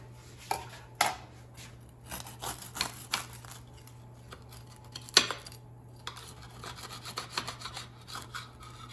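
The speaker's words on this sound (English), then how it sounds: "And now let me just cut it in half." A knife slices through a toasted grilled cheese sandwich, browned on both sides, producing faint scraping and crunching strokes with occasional clicks of the blade against the plate or board, quiet and close with no talking.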